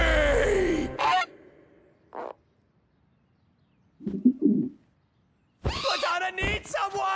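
Cartoon geese honking in several short bursts, with a harsh burst at the start, brief calls in the middle and a loud flurry of overlapping honks at the end, separated by near silence.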